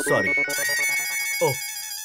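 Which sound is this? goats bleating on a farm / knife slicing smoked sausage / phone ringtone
phone ringtone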